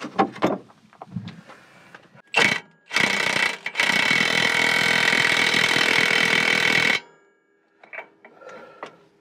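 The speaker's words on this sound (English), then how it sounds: "Then comes the handy impact gun" Pneumatic impact gun tightening the lower shock absorber bolt on a Freightliner M2 112 truck, loud sustained bursts of rattling hammering, one long run of about four seconds plus shorter blasts, with no talking.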